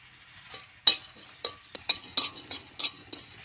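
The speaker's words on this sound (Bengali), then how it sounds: "এই মশলাটা ভেজে নিয়ে নামানোর আগে গুঁড়ো করে দিয়ে দেবো" Cumin and other whole spices are dry-roasted in a pan, giving sparse crackles and a run of sharp metallic scrapes and clinks from stirring, close and fairly quiet.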